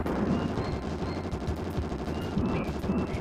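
Missiles fire in the SNES game Bazooka Blitzkrieg as a dense, continuous stream of rapid, rattling game shots, steady and fairly loud throughout.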